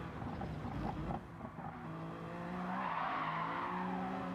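A BMW race car slides on track, its tires skidding and squealing over a continuous engine drone with shifting pitch, loud and close throughout.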